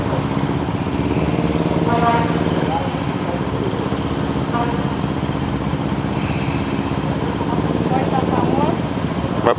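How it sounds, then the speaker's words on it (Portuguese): Group of nine motorcycles idling together on a road ride, a steady layered engine rumble that holds level throughout, with voices talking over it. "São 9 motos."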